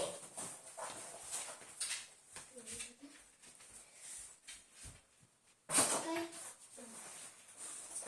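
Dog searching among tall cardboard boxes during scent work, with soft sniffing, rustling and occasional whimpers, close by, while a handler speaks quietly at intervals and a sharp clatter breaks in near the end.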